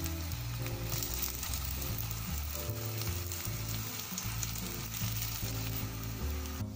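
Aloo cutlets sizzle and fry in oil in a pan, a steady, close crackling hiss that continues evenly throughout with no voices.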